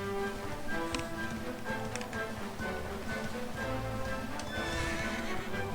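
Horse hooves clip-clop rapidly in a galloping rhythm while a horse neighs in the video game Dragon Quest XI, set against a soft game-like musical background.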